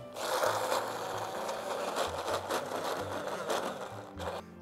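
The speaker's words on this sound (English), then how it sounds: "Let's grind this into a beautiful smooth paste." An electric kitchen grinder whirs steadily while blending green chilies, mustard oil and salt into a smooth mustard paste, a loud continuous motor drone with pulsing low tones throughout.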